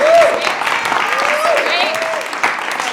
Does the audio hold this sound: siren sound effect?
no